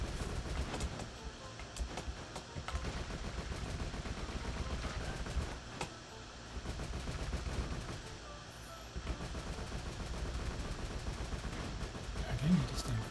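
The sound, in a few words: character firing projectiles in video game Skul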